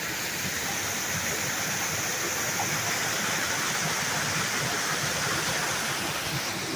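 Water rushes steadily through a small waterway, a constant broadband wash without breaks, moderately loud and close, with no voices.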